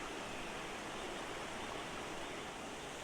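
Small cascades of a mountain stream at the Cascade des Tufs near Arbois in the Jura, a steady broadband rush of falling water, continuous and fairly faint, with no other sounds.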